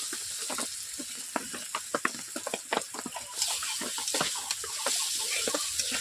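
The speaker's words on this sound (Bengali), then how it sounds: "এভাবে আমি আলু দেওয়ার পর 2 মিনিট কষিয়ে নেব আলুগুলোকে।" Boiled potatoes sautéing in spice masala in a pan for rui fish curry, soft sizzling with scattered stirring clicks and scrapes, fairly quiet and close.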